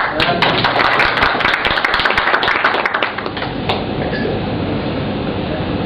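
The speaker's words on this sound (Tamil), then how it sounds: "கைதட்டுங்களேன்." Audience at an indoor business event in Chennai breaking into dense, steady clapping, loud and close for about three seconds, then thinning into a softer, more diffuse patter of applause.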